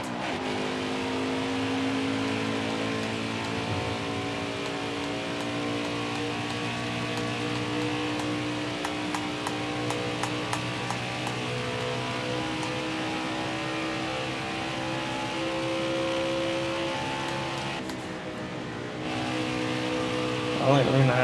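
Race car engines roar at Kansas in the NASCAR Heat 4 video game, a steady high drone of a pack at full throttle with sustained engine whine under commentary, slight shifts in pitch as cars pass.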